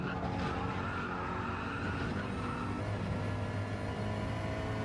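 A McLaren 650S Gr3 race car in Gran Turismo 7 roars at high revs with a steady, dense engine drone and tire noise throughout, close and continuous with no break.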